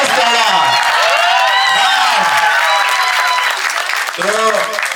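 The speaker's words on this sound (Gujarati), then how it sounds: "તો બધા જ કલાકારોનો આપણે તાળીઓથી સ્વાગત કરીએ." Audience applause at a screening of the Gujarati film 'Bhamardo' in Vapi: sustained, dense clapping from a crowd, with a loud voice carrying over it throughout.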